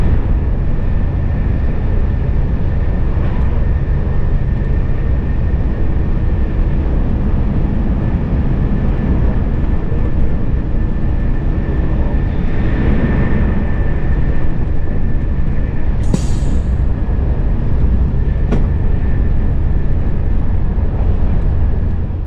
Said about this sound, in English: now we can listen to our train going through that station with full speed